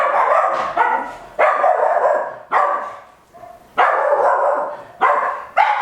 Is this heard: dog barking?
yes